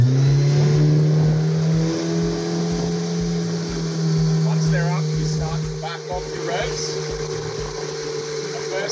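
A ski boat engine drones loudly and steadily, its pitch holding and swelling as it accelerates to pull a water skier, with water rushing beneath and faint voices over the motor.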